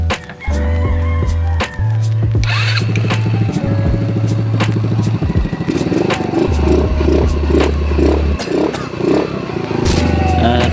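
A Rusi Gala 125 motorcycle engine, freshly fitted with a new crankshaft, idles close by with a low steady chug, briefly cutting out near the start, over clattering and tapping from nearby workshop activity.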